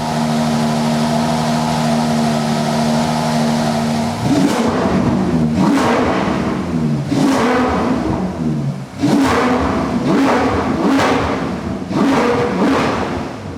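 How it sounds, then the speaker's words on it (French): A Ferrari 812 GTS naturally aspirated V12 idles steadily, then bursts into a series of sharp revs, each climbing and falling back, loud and close with no talk. "je vais vous faire écouter le V12 atmosphérique de la 812 GTS."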